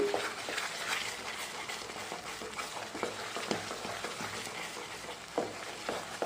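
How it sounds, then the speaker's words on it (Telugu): A spoon stirs rava kesari with cashews and ghee in a hot pan, repeated scraping and stirring strokes over a soft continuous frying sizzle, close and without talk. "ఇప్పుడు జీడిపప్పు కూడా ఇందులో యాడ్ చేసుకోవాలండి మొత్తం అంతా కలిపేసుకుందాం"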